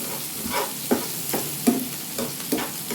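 Onions fry in a pan for a gugli clam curry, giving a continuous sizzle with a regular rhythm of scraping stirs, close and fairly loud.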